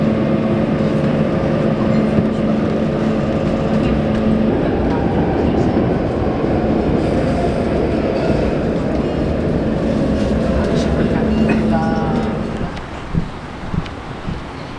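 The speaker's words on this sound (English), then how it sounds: "Let's get the subway back." A Barcelona subway train rumbles along with a loud, steady roar and a constant motor hum, then the noise drops off near the end to a quieter background with scattered knocks.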